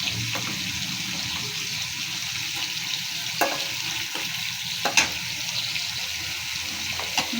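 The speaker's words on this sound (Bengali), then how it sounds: "তেল দিয়ে দিয়েছি, তেলের ভিতরে দিয়ে দিয়েছি হচ্ছে গিয়ে চিংড়ি মাছ" Shrimp frying in oil in a home kitchen pan with onion paste, giving a steady soft sizzle throughout, with occasional light clinks and stirring taps.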